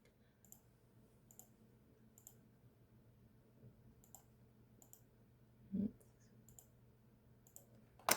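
Computer mouse clicks while selecting colour areas in an appliqué design, heard as faint, evenly spaced single clicks at a slow, regular pace in a quiet room, with one louder thump partway through.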